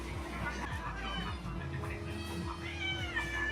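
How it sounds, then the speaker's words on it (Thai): An orange cat kept as the mascot at a sheep farm in Pattaya meows a few times amid steady crowd babble, with people talking nearby. "มาสคอตประจำที่นี่แมวส้มตัวตึง"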